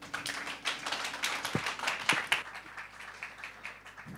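A modest audience at a startup demo semifinal claps, scattered individual hand claps with a few sharp nearby ones, fairly quiet and irregular.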